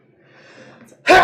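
A single loud, abrupt sneeze bursts out at the end of a tabletop role-playing game session, after a low, quiet murmur.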